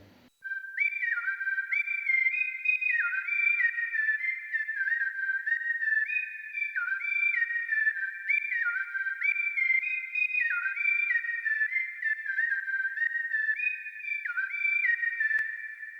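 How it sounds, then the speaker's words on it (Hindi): A bright whistle lead synth patch, EQ'd with boosted highs and trimmed lows, plays a looping melodic phrase of gliding sustained notes in FL Studio, steady and loud throughout with no voices. "वापस से एक लीड का विसल साउंड लिया है।"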